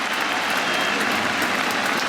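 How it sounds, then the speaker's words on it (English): A cricket crowd at the Oval bursts into sustained, loud applause and cheering, a dense wall of clapping from a big stadium audience. "The crowd go berserk."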